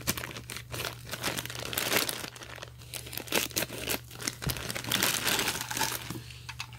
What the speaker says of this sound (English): Just gonna use a scissor to cut it off.